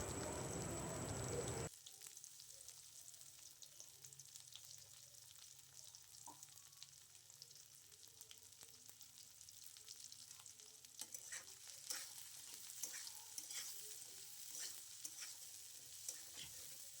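Chopped onion, garlic and green chili frying in a pan for a cock chicken curry, a steady soft sizzle with occasional stirring scrapes and pops, close and quiet, opening with a brief louder burst.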